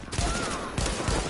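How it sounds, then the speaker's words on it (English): Rapid bursts of gunfire in the video game The Division, dense and loud over a brief moment, with muffled game ambience behind. "Sniper gun."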